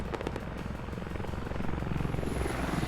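Helicopter in the military video game Squad, a close, loud rotor chop with rapid rhythmic blade pulses and engine drone running continuously, no voices.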